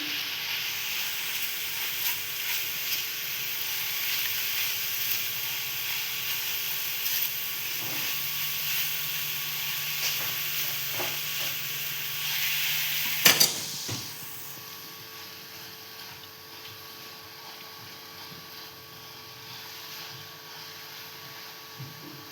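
Coconut and jaggery being stirred and dry-roasted in a pan: a steady sizzling, scraping hiss with occasional clinks of the spoon, a sharp knock near the end, then quieter frying.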